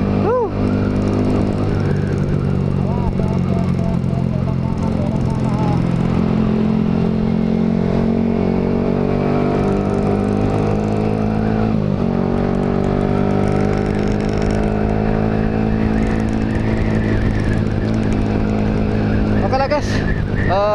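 Yamaha R15 motorcycle being ridden, its engine revving up and down through the gears with rising and falling whine, close and loud, with a rider's voice speaking over it.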